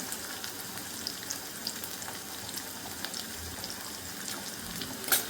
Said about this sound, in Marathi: इथे मी टाकून घेतले जिरं मोहरी कांदा आणि लसूण तर छान आपल्याला तेलात होऊ द्यायचं आहे